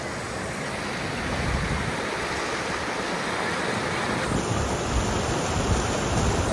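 Glacial meltwater of the Ganga rushes steadily at Gangotri, a loud, continuous broadband roar of flowing water close by, with no voices over it.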